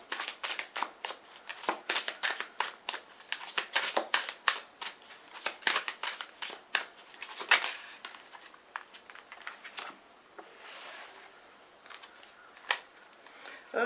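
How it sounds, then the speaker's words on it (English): Repeated crisp riffling of playing cards being shuffled for a tarot-style reading, quick bursts of snapping flutters with short pauses, close and fairly loud. "I'm going to shuffle these cards for the first one for you."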